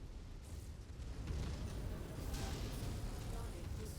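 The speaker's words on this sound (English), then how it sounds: "That explosion was personal." Explosion in a military-style video game, heard as a continuous rumbling blast with low-frequency boom that swells after about a second and sustains, broadband and fairly loud throughout.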